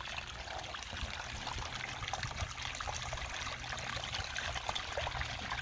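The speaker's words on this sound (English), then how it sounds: "my waterfall over here." Water trickles steadily over rocks in a backyard pond waterfall, a continuous close splashing wash with no talk.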